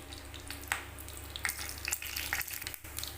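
Mustard seeds crackle and pop in hot oil in quick, irregular bursts over a constant sizzling hiss, close up with no voices.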